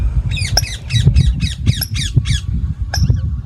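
A flock of parakeets squawks in a rapid series of harsh, repeated calls, loud and close, with a brief pause before a final burst, over low background rumble in Bushy Park, London.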